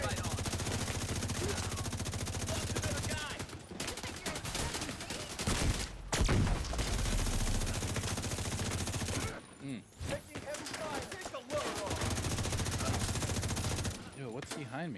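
Gunfire aimed at the player in The Division, sustained rapid bursts of automatic shooting with brief pauses and some distant shots, along with game sounds and occasional talking.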